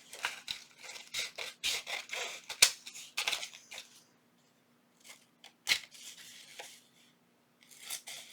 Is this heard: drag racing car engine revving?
no